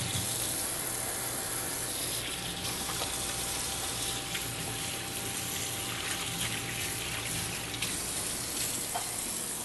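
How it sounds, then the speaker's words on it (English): A kitchen tap runs steadily, water splashing and hissing into a sink as something is rinsed beneath it. "Rinse off real fast."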